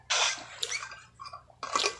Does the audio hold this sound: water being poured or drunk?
yes